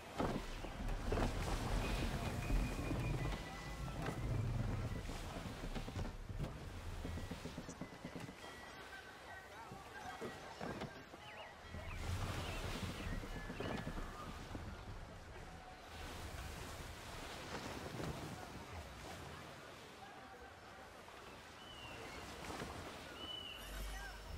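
A sailing ship pushes through strong wind in Assassin's Creed 3, with a continuous roar of gusting air and crashing waves swelling and easing across the stretch, loud and enveloping.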